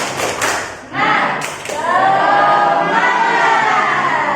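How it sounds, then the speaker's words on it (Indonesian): A classroom of students performs a rhythmic group clap, a few sharp claps followed by a burst of loud, sustained shouting voices chanting together in unison. "Kita tepuk semangat dulu ya. Tepuk semangat."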